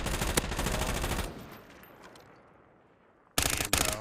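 Rapid automatic gunfire rattles in a first-person shooter video game, a dense burst up front that fades into a lull, then two sharp loud bursts close at the end.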